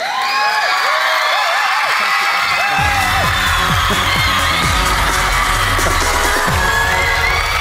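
Young fans scream and cheer at an Idol 2008 televised singing competition, a loud, dense crowd noise that swells after the first couple of seconds and stays sustained, with piercing shrieks layered over it throughout.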